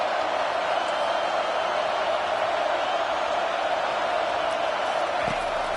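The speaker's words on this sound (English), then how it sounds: "Now the crowd responding in the red zone, trying to help this defense." Football stadium crowd roaring for the defense in the red zone, a steady, broad wash of distant cheering and noise that holds evenly throughout.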